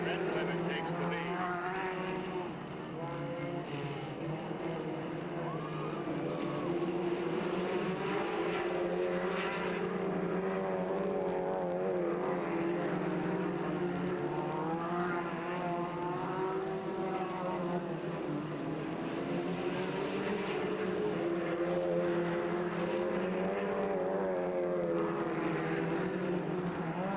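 Race cars circling the Delta Speedway oval in 1997, a continuous engine roar that swells and fades as the pack comes off turn four, heard at a distance under steady announcer commentary.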